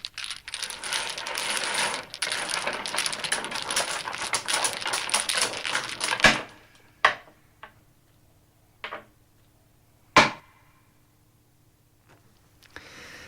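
Hard tiles clatter and rattle in a dense, busy shuffle for several seconds, then a few scattered sharp clicks of pieces knocking together.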